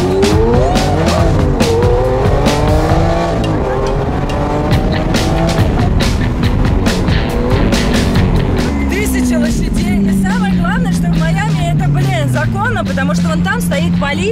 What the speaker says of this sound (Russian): они в курсе, что здесь будут ребята гоняться